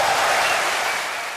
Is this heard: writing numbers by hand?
no